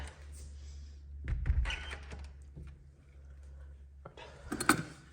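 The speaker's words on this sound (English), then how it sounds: "Let's close the door so we don't hear the cats meowing." A door closes with a soft thump in a quiet room, followed by a few small knocks and another dull thud near the end.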